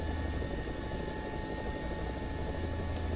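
A Huey utility helicopter in the combat game War Thunder, its rotor and engine making a steady, dense, unbroken drone. The noise stays continuous and moderately loud throughout, with no voices.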